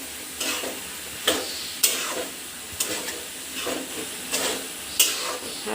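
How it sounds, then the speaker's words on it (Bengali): Rice being stirred with vegetables in a frying pan for vegetarian brown rice khichuri, with regular scraping strokes about once a second over a soft continuous sizzle, close up and with no voices. "চালটা তরকারির সাথে একটু নাড়াচাড়া করে নিই।"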